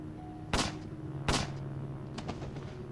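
Gunshots in The Song Out Of Space video game, two sharp loud cracks about a second apart over a humming ambient background, followed by fainter clicks.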